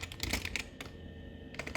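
Fingers type on a computer keyboard in quick, close bursts of key clicks with a short pause in the middle, faint and without talking.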